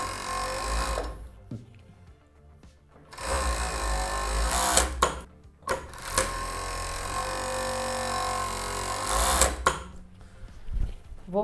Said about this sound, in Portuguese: Então, eu vou abrir aqui, ó, e costurar as laterais menores.